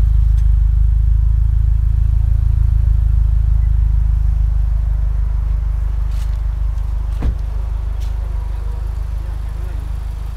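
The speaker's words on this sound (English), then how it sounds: "Of course, you've got that exhaust." A rally car's engine idles with a deep, steady exhaust rumble at close range at a rally event, joined by a few brief clanks and scuffs nearby.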